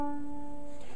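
A fiddle note bowed with the hand drawn back and little leverage on the bow, a single sustained tone with steady harmonics that wavers and thins near the end, heard alone.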